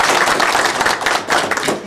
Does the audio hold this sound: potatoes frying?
no